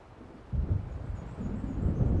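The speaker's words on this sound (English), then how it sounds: "It seems there's a storm coming." In the Alan Wake video game, thunder from an approaching storm rumbles low and steady, swelling after a quiet start and staying faint and distant, with no voices.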